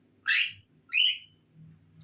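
A human voice imitates a newly arrived cat, giving two bright, shrill squawking calls that sound like a seagull, each about half a second long, followed by a fainter trailing sound over a low background hum.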